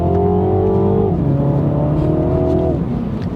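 A Mini Cooper JCW with a B48 engine drives and accelerates, its engine tone climbing steadily through two gear changes, heard loud and close from inside with no talking.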